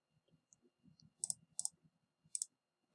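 Calculator keys are pressed one after another in a quiet room, giving soft, light clicks followed by a few sharper taps.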